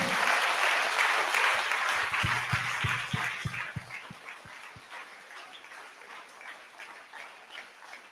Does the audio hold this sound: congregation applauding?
yes